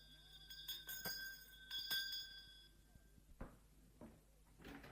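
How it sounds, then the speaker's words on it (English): A hand bell rung to summon a servant in a quiet room, with several bright ringing strikes near the start followed by fainter clinks and soft household sounds. "May I ring the bell, Mrs. Hilton?"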